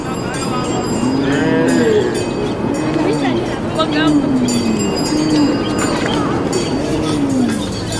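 Cattle lowing at a Dinka cattle camp, a herd giving repeated long moos close by and at a distance, overlapping against a busy outdoor camp background with a voice talking over it.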